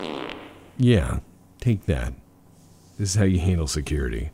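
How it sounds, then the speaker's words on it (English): A brief cartoonish fart effect from the video game Space Station 13 sounds near the start, mixed in among a man's spoken remarks. "I'll sit here and fart."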